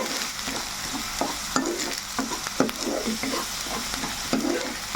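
Ginger-garlic paste fries in a pan with mutton fat waiting to go in, a steady close sizzle broken by repeated scrapes and clacks of a spoon stirring.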